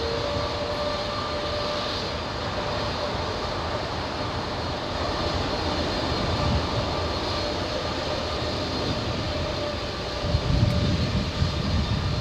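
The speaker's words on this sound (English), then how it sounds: "This is a heavy taking off in front of us." A Hawaiian Airlines heavy jet takes off at LAX with a steady, loud engine roar that fills the whole clip, swelling slightly near the end, heard from close by with no talking.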